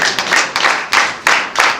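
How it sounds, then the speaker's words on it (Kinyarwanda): Church congregation clapping together in a slow, regular rhythm, about five loud, reverberant bursts of massed hand claps. "Dukomereze amashyi."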